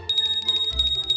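A small bell rings in quick repeated strikes, bright and metallic, close by, with a low rumble entering halfway through.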